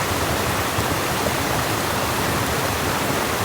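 A mountain creek rushes in a steady, unbroken wash of flowing water during a backcountry spring bear hunt on public land, loud and close with no voices over it.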